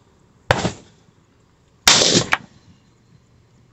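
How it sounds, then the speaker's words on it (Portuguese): Two sharp, loud gunshots ring out about a second and a half apart while a red dot sight is zeroed, each with a short echoing tail, followed by quiet. "Dá mais um ou dois tiros."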